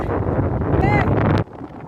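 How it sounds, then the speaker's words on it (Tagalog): Strong wind buffets the microphone in a steady, loud roar of noise, with a brief whistling tone partway through before the gust cuts off abruptly. "Ang lakas ng hangin."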